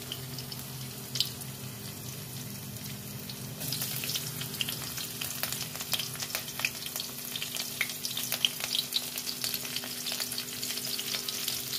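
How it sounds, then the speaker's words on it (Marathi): Garlic and chili fry in oil, a quiet background hiss that grows busier partway through, with scattered crackles and pops over the steady sizzle. "लसूण मिरची सुद्धा चांगली तळतळून द्यायची"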